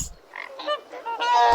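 A goose gives a short, harsh honking call, nasal and close, rising into a louder drawn-out honk at the end, alone with no talking.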